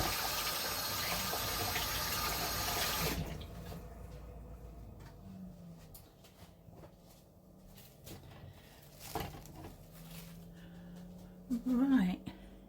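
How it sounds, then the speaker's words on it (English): A kitchen sink tap runs in a steady rushing stream for about three seconds while hands are washed, then shuts off, leaving quiet room tone with faint clunks and a brief hum. "I'll wash my hands and show you."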